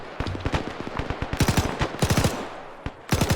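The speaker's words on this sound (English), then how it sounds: "Oh god, machine gun." Machine gun fire in the military game ArmA, heard as several short, sharp automatic bursts of rapid shots separated by brief gaps, fairly close and loud with no talking.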